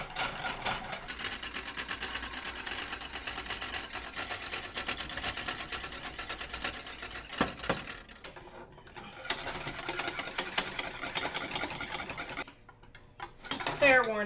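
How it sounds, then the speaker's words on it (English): A whisk beats egg mixture into choux pastry dough, a steady, dense scraping and rattling against the bowl that runs nearly throughout, with a brief pause and a few sharper clinks near the end. "I'm going to slowly add my egg mixture while whisking at the same time."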